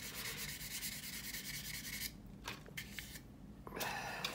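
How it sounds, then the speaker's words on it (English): A sanding sponge rubbed over a model aircraft wing from a 1/32 Trumpeter F-105G kit, a steady raspy scrubbing for about two seconds, then shorter strokes after a pause, close and fairly quiet. "these sanding sponges really hog away material fast."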